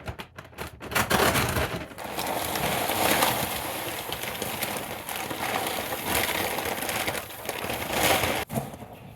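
A 50-pound bag of Producer's Pride scratch feed is cut open and poured into quail housing, a long steady rush and rattle of grain spilling with crinkling bag noise, close up, and quail cooing faintly behind.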